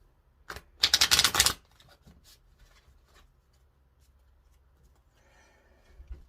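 Tarot cards are shuffled in a quick, loud riffle burst followed by a few sharp taps and soft rustles, then quiet handling noises.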